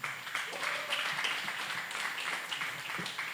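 Dense, sustained applause from a conference audience at a music business and entertainment panel, welcoming Ifeyinwa Anyadiegwu to the stage; many hands clapping at once, loud and continuous for the whole stretch.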